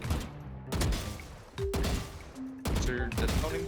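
Rapid bursts of gunfire from the Aim Lab shooting trainer, several loud broadband volleys separated by short gaps, with faint game tones between shots and no talking.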